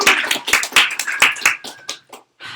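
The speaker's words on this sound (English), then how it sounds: "So let's give a round of applause for all of the team members." A small group of team members claps for a few seconds, with distinct, close, uneven hand claps that taper off and briefly stop before a last burst.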